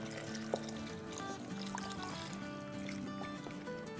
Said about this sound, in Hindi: 1 कप पूरा पानी डाल देंगे और अब एक हाथ से डालेंगे और एक हाथ से चम्मच चला देंगे